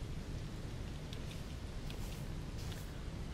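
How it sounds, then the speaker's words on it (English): Steady broadband rain falls in the game Aloft, a continuous wash of hiss with low rumble underneath and a few faint droplet ticks, even and unbroken throughout. "It's starting to rain."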